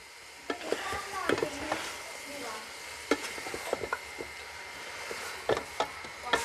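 Chicken feet fry in a pot while a utensil stirs them, giving a steady sizzle broken by repeated scraping and clattering strokes at close range, without any speech.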